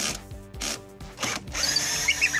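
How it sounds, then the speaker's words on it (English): A 20V Black & Decker cordless drill driving a universal socket, its motor whirring in short bursts with brief stops, then running steadily with grinding and rubbing, close and fairly loud. "first up, the 20V drill using a universal socket"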